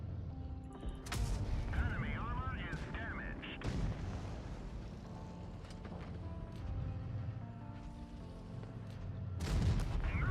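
Tank cannon shots in an online tank battle game, several booming blasts of high-explosive rounds at the start, middle and end over a steady engine rumble, with someone talking quietly in places.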